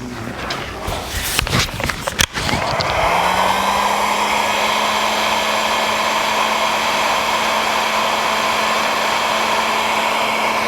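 A heat gun shrinks heat shrink tubing over a wire at a taillight connector on a 1949 Chevrolet gasser. A few clicks and knocks come first, then the gun starts with a steady, close, blowing hiss that holds to the end.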